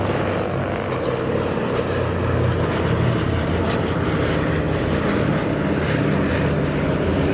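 A Douglas Dakota C-47B propeller aircraft flies past at an air display at Duxford, its piston engines giving a loud, steady, droning roar that stays constant throughout with no talking.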